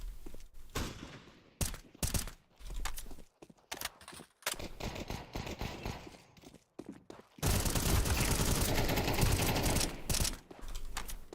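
Bursts of Counter-Strike 2 gunfire, with sharp shots scattered through the first half and a dense, loud sustained volley toward the end.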